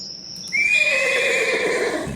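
A horse neighs as a sound effect during a tabletop role-playing game, a single loud, close whinny that rises sharply and then trails off in wavering descending tones, with no talk over it.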